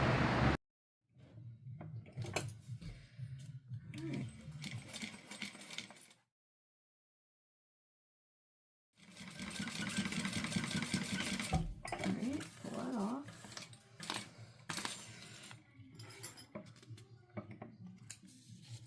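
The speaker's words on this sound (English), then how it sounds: "we sew this top with a 1/4 inch seam allowance and then pivot and take it down all the way" A sewing machine stitches a 1/4 inch seam on fabric, pivoting at a corner. Its fast, light mechanical clatter runs in two stretches separated by a few seconds of silence.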